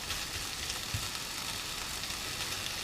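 Ground meat frying in a pan for spaghetti bolognese, a steady close crackling sizzle with occasional sharper pops, no talking.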